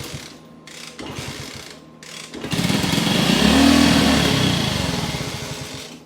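Engine of a vintage 1964 Honda C200 motorcycle catching after hand choking, running loud and close with a rough mechanical clatter and swelling for a few seconds after a sputtering start, with a carb fault suspected.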